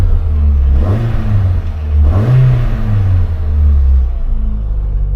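An R50 Mini Cooper engine running just after a jump start, a loud close rumbling idle with two quick revs rising and falling, smooth and steady between them.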